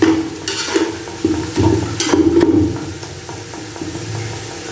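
Masala for an aloo matar pulao fries in a pan while being stirred, a close sizzle with scraping spoon strokes and soft clatter, louder in the first half and settling toward the end.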